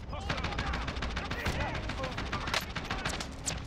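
Rapid automatic gunfire from the video game Call of Duty Warzone, dense bursts of shots firing continuously at close range with a few sharper cracks, filling the whole stretch loudly with no speech over it.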